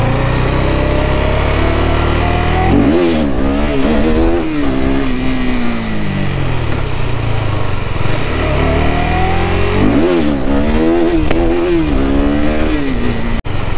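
A KTM RC390 motorcycle with a throttle response fault revs loudly up and down in repeated swells, its engine note rising and falling close to the microphone throughout.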